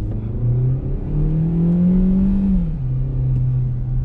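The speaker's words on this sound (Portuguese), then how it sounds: "O motor grita bastante, né?" A Citroën C4 Cactus with a 1.6 engine revs hard under full throttle, its loud, strained engine note climbing steadily, peaking, and then dropping back to a lower sustained drone inside the car.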